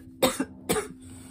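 Two short, close coughs about half a second apart, each a sharp burst with a brief rough tail, against a quiet background.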